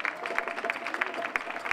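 Applause from a crowd at the San Fermín neighbourhood festival in Barbastro, brisk, dense clapping from many hands, close and lively, running through the short stretch without a break.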